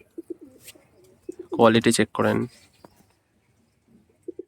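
Andhra Fulshira tournament pigeons coo in soft, short bursts at the start and end, with someone briefly speaking in between.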